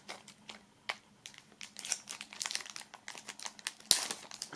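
A small sealed plastic bag holding stickers from an unboxing is opened and handled, making close, busy crinkling and rustling with sharp crackles and one louder tearing burst toward the end.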